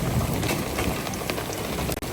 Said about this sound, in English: it's raining in.